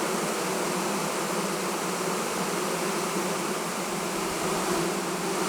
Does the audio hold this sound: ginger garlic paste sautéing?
no